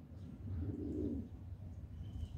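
Pigeons coo nearby, one low soft burbling call swelling and fading over a couple of seconds.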